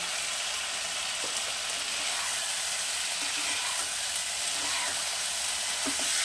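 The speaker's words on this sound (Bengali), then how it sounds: "এবারে দিয়ে দেবো ভেজে রাখা আলু আর ফুলকপিগুলো" Fried potatoes and cauliflower go into a sizzling Bengali koi fish curry, which fries with a constant dense hiss and a few soft clinks of stirring, with no one talking.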